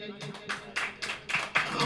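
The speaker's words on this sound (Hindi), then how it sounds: "ताली बजाइए।" Congregation clapping hands in a church service, a few bursts of applause rising and falling over about two seconds, with speech mixed in.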